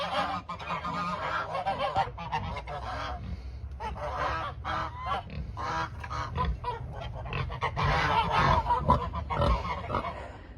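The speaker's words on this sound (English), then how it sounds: "you do know that those geese were not really hurting me" A flock of geese honking loudly and continuously, overlapping nasal calls close by, with no talking.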